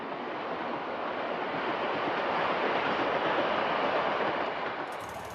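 A train on the Trans-Iranian Railway in northern Iran rolls along with a steady, dense rumble. The broad roar holds at an even loudness for the whole stretch, with no voices over it.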